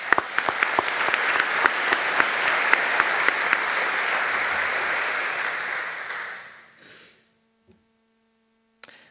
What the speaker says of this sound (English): They really deserve a big applause.